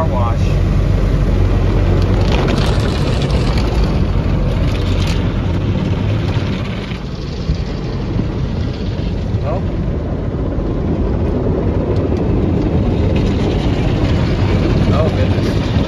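Automatic car wash running over a car fitted with a quarter-wave stainless steel VHF antenna on a fender mount, a loud continuous rumble of spraying water and machinery heard from inside the car, with occasional talk.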